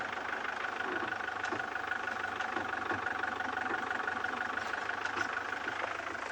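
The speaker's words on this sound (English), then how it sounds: "Realise how noisy this car is until you turn the engine off and freewheel." A safari vehicle engine idles with a steady, continuous rumble and faint mechanical ticking, close and unchanging, with no one speaking, in Ngala Private Game Reserve.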